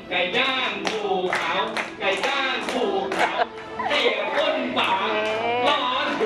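A group claps in short rhythmic sets, sharp bursts of hand claps grouped in counts, with voices chanting and calling loudly along with the beat throughout.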